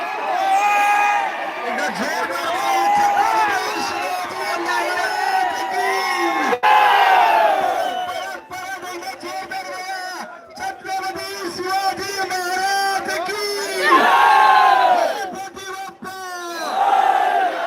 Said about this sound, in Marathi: जल्लोष होतोय.